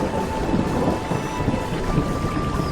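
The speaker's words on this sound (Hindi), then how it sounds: "बारिश की आवाज के बीच कुछ पल के लिए सब चुप हो गए।" Steady heavy rain with a low rumble of thunder rolling underneath, continuous and fairly loud, with no one speaking.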